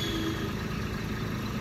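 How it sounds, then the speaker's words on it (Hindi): A small 2024 new-model Kubota tractor engine runs at a steady idle, giving a close, continuous low rumble with no talk over it. "ये देखो स्टार्ट हो गया ट्रैक्टर"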